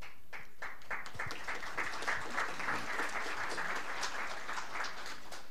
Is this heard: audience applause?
yes